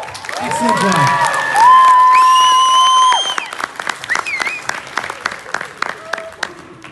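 Audience at a furry convention dance competition claps and cheers loudly for several seconds, with whoops and shouts on top, then the applause thins into scattered claps under talking.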